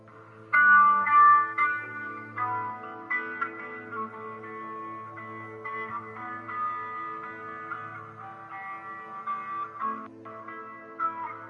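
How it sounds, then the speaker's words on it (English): Guitar notes drenched in heavy reverb with a touch of chorus ring out and sustain, a strong first chord decaying into a shimmering, echoing wash of softer picked notes. "it's literally just cranking the reverb. A little bit of chorus"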